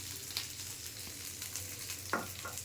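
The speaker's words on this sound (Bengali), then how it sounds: "কড়াই গরম হয়ে গেছে, এখন সাদা তেল দিয়ে দিব অল্প" White oil poured into a hot wok for a fish korma gives a faint, soft sizzle with a few brief crackles, quiet and close, with no voices.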